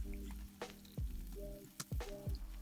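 Soy sauce hits the side of a hot pan during a beef and broccoli stir-fry, giving quick bursts of sizzle and sharp hissing spits between quieter moments, fairly soft overall.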